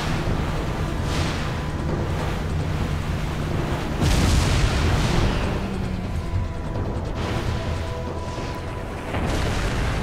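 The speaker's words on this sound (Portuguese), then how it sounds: "De novo a explosão." Explosions in Resident Evil 4, loud and sustained with deep rumbling booms that swell around the middle, part of a continuous roar of in-game blasts and debris.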